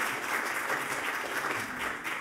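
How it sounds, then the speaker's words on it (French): Audience applauding at a French diplomatic press association award ceremony, a steady, even wash of clapping with no talk over it. "Vous pouvez l'applaudir."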